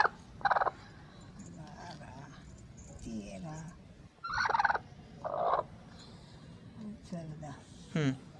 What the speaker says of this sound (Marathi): तर आपली कोंबडी आहे.